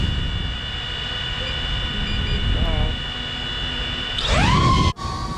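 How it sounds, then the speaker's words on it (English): FPV drone motors spin up near the end, a rising whine that climbs quickly and then holds a steady high buzz, coming in after several seconds of a constant background hum. "And let's start the engines."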